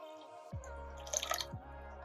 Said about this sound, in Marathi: डाळ तेलावरती थोडीशी परतली की यामध्ये आपण पाणी ऍड करून घेऊयात